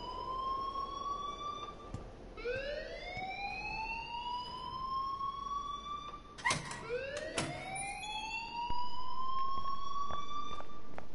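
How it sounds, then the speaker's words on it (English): A rising electronic alarm siren in the Life Is Strange video game, sweeping upward in repeated wails with brief clicks and knocks between, moderately loud and steady. "please turn off that alarm"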